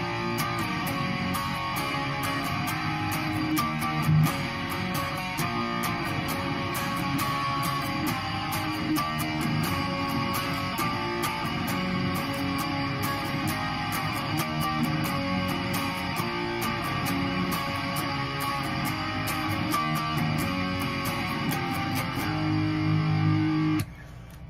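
Heavily distorted electric guitar plays the chorus, power chords moving through a steady riff, loud, dense and continuous for the whole stretch with no talking.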